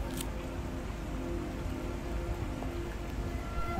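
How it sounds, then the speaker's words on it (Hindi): Heavy rain pours down in a steady, dense wash of noise, continuous and fairly even throughout, with no voices. "ना तो ये बारिश रुकने वाली है और ना ही ये जो है वो बादल छटने वाला है।"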